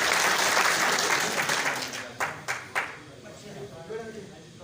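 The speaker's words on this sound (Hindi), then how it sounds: "एक बार आप सब जोरदार ताली बजा करके विधायक जी का" Dense crowd applause fills the first two seconds at a village panchayat gathering in Gorakhpur, Haryana, honouring the local MLA. It then thins into a few sharp separate claps and fades into background murmur.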